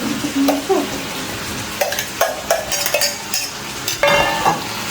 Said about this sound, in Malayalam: ഇവിടെ ചിക്കൻ ഫ്രൈ ആയിക്കൊണ്ടിരിക്കുന്നു.